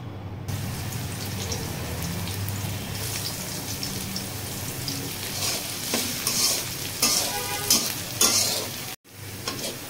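Sliced onions hit hot mustard oil in a wok and crackle into a lively sizzle, with stirring scrapes and a brief pause near the end.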